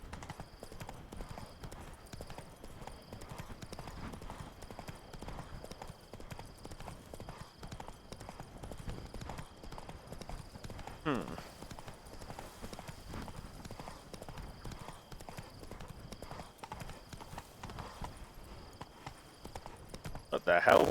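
Roach, a horse in the Witcher 3 video game, clip-clops along with a steady, quiet hoof rhythm beneath continuous low ambient game sound, with a brief louder sound at the very end.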